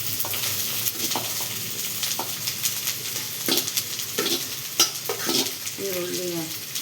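Onion frying in a pan with ginger and curry leaves for a South Indian potato palya, a steady broadband sizzle with scattered stirring clicks and scrapes, close and moderately loud, with a brief voice near the end.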